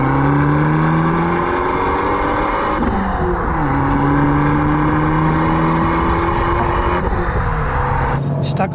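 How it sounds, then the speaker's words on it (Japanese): Abarth 595 exhaust in a sport drive mode, a loud, close engine note rising and falling through repeated revs, with a sharp crackle at the end. "メーターの表示が変わって、マフラーの音もだいぶ変わったな。"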